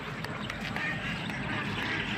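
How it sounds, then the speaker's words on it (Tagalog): A large flock of domestic ducks in Candaba, Pampanga, quacking over one another in a dense, continuous chorus that stays close and loud throughout. "napakadami pa ng mga itik"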